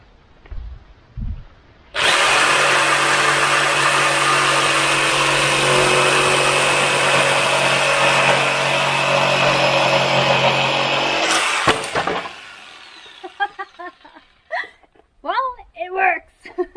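A jigsaw cuts through wood clamped along a straight edge, a loud continuous buzzing whine holding steady for about ten seconds before stopping abruptly, followed by a voice speaking.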